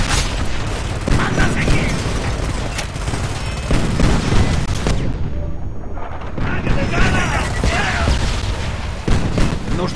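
Dense, continuous gunfire and explosions from the game Homefront rumble loudly throughout, with a brief lull midway before the barrage resumes.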